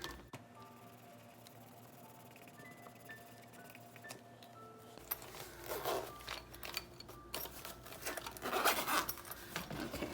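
A cash-stuffing envelope is zipped shut: a close, scratchy zipper rasp with several quick pulls, loudest toward the end.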